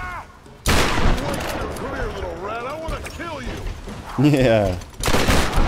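Loud gunshots from the Tomb Raider video game come in sudden bursts, with someone talking over the shooting.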